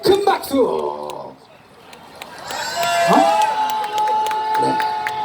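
Rally crowd at a Seoul political demonstration cheering and applauding as a speaker is called up, shouts and claps over amplified voices and a sustained whistle-like tone, loud and dense throughout, with a presenter talking.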